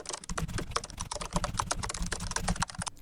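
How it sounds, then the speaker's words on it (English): Rapid, steady keystrokes on a computer keyboard, close and fairly quiet, with no talk. "first thing I'm going to do is type in my first message into the node"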